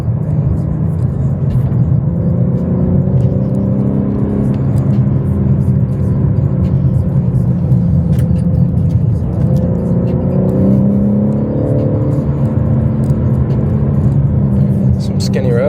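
A BMW M3 Competition engine hums and drones steadily from inside the cabin, its pitch rising and falling as the car drives and shifts.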